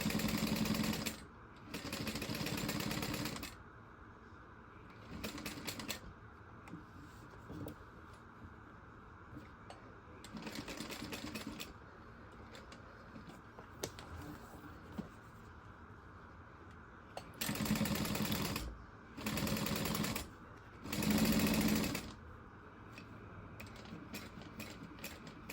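Sewing machine stitching a circular handbag, running in several short bursts of rapid mechanical whirring separated by quieter pauses.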